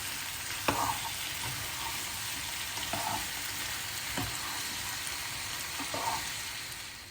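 Zucchini and minced meat are stirred dry in a pot over a steady frying hiss, with a few sharp spoon knocks and scrapes spaced seconds apart.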